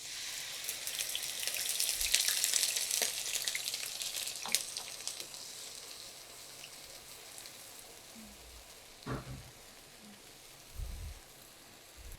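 Onion paste and a bay leaf frying in plenty of oil, a steady close hiss and sizzle that is loudest at first and then eases to a softer crackle, with a few dull knocks and no talking.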